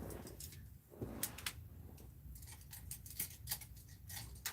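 Metal scissors clink and clatter against art supplies as they are put away, with a few sharp taps and rattles spaced over a quiet room.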